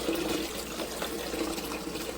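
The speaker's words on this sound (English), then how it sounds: "I'm going to put some water in from the Dreo water filtration system" Water poured from a Dreo filtration pitcher into a small portable Silonn ice maker, a steady close trickling and splashing that runs unbroken from start to end with no voices.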